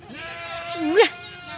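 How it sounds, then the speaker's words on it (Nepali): A single short goat bleat rises and falls near the end, loud and close, over a steady background hum. "बाख्रा कराउँदैन कि साथी खोजेको"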